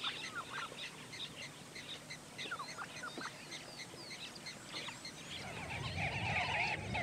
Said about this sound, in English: The first to arrive at the waterhole this morning are a large flock of Namaqua sand grouse.